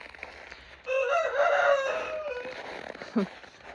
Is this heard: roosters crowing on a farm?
yes